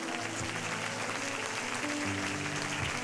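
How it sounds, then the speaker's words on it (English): A church congregation applauding together, a steady wash of clapping hands that fills the room for about three seconds with no voices over it. "Clap your hands for Moses."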